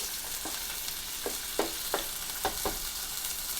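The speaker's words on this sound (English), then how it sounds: "So we'll go ahead and get our hash browns in." Hash browns fry in a skillet with a steady hiss, broken by a few soft scraping stirs. One serving is cooking, and no one speaks.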